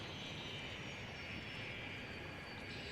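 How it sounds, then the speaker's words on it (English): Futuristic airliners coming in to land in Cities Skylines, a faint, steady jet-engine roar with a continuous whine and no talk. "And we've got all the futuristic planes coming into land."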